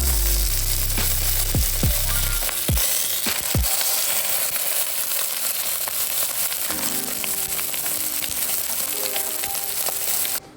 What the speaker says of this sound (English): Got my pork shanks here. Right into the pan with the shanks.